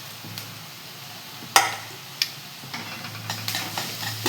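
Onion and garlic paste sautéing in a pan for homemade aloo paratha, with a low steady sizzle broken by a few sharp spoon clinks and scrapes against the pan.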